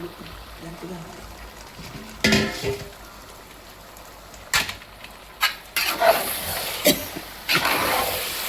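Food stirred in a pot with turmeric and ginger for a Sunday biryani and chicken curry meal, heard as scraping, clattering spoon strokes in several bursts, moderately close, with faint frying sizzle between them and no talk over them.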